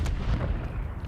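Muffled grenade blasts in a Call of Duty League match, a low rumbling boom near the start that rolls on as a dense, sustained low-end roar through the rest of the moment.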